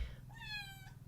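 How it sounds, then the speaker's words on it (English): A pet cat meows once, a clear drawn-out call close to the microphone, heard alone over a low steady hum indoors. "Did you guys hear the cat?"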